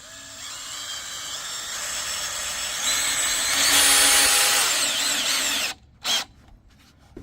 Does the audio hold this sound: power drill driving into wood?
yes